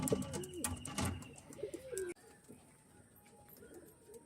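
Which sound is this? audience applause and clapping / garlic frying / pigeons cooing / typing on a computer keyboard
pigeons cooing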